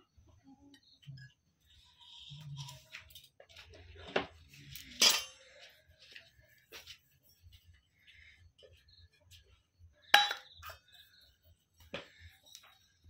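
Oil being stirred in a steel bowl while making a bowl cake, with faint scraping and a few sharp metallic clinks of a spoon against steel, sparse and close, scattered through quiet stretches.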